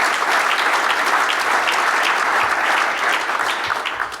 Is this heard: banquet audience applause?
yes